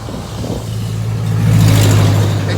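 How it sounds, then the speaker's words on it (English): Road traffic passing nearby, a steady engine rumble that swells as a vehicle goes by and then eases off slightly. "excuse the traffic"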